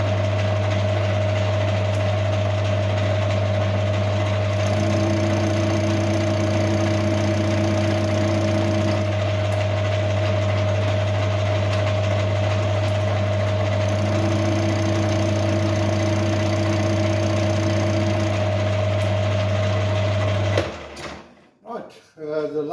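A Bravo Volt BV20BL mini lathe hums steadily close by with a constant motor whine, its tone shifting slightly in stretches before it spins down and stops near the end.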